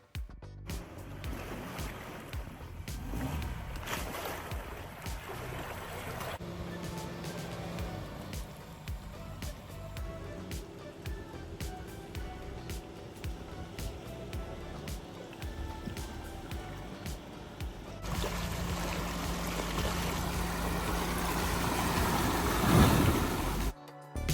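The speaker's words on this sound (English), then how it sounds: "We also tested the Jimny's ground clearance of 210 millimeters by sending it into a series of mud holes" A 2025 Suzuki Jimny 5-Door GLX on road tires plows through a series of off-road mud holes, its engine rumbling steadily while water and mud slosh and splash around it, building to a louder surge near the end.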